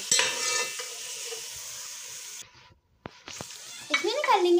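Two large chopped onions frying in half a cup of hot oil for biryani, a loud steady sizzle with stirring that drops away briefly before resuming beside a voice.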